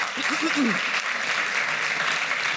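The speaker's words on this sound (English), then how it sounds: "A round of applause, please." Steady applause from a crowd fills the clip, with a brief voice audible underneath at the start.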